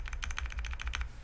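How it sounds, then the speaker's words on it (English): Rapid backspace key presses on a Bakeneko65 mechanical keyboard with Akko Jelly Black switches, about eight close, crisp clacks in a quick even run. "More sound test, here's backspace,"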